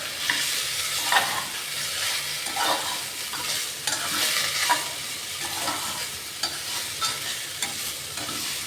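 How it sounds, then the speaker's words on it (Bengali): Vegetables being stirred in a hot pan after salt and sugar are added, with soft continuous sizzling and repeated scraping spatula strokes close by, no talking. "দিয়ে আবার আমি এটা মিশিয়ে নেবো ভালো করে।"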